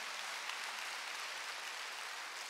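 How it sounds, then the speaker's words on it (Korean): A church congregation clapping during a Wednesday worship service, a steady, even patter of many hands at moderate volume that stays constant throughout, with no voices heard. "박수 한번 주세요."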